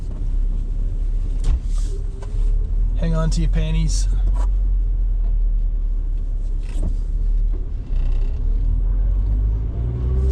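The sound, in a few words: modified car engine revving with airbox, driving in rain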